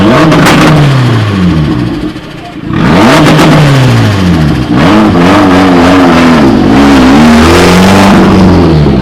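A Toyota Celica GT on a two-step launch limiter, its engine revving hard in repeated rising and falling sweeps with harsh popping stutter, loud and close, with a brief dip before the revving resumes and people's voices partly mixed in.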